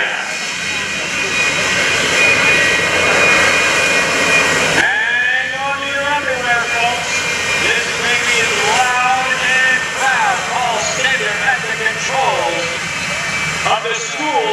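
A J79 turbojet engine with afterburner on a jet-powered school bus at an airshow roars loudly and continuously with a high whining tone, a harsh, powerful blast shifting in pitch, while a voice speaks over it.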